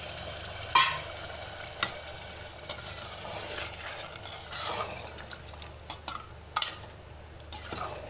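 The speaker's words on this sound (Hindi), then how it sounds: "पनीर भून चुका है, अब इसमें हम पानी ऐड कर देते हैं।" Paneer frying in a pan after water is added, a soft continuous sizzle broken by intermittent clinks and scrapes of a stirring utensil against the cookware.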